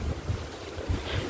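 Wind buffeting a microphone, producing low rumbling gusts and thumps that come and go in uneven bursts, with a hissy outdoor background.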